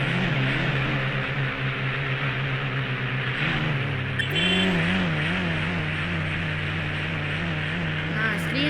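An engine in the video game Indian Bike Driving 3D, from a Swift car, revs continuously with its pitch wavering up and down, loud and close, with a person talking faintly at times.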